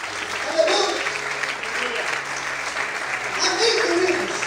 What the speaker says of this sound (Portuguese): glorifique e aplauda Ele bem forte